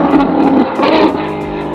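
A Ferrari 812 with a Novitec exhaust revs its V12 in the desert, a loud, close, high-pitched scream rising and falling in two quick surges.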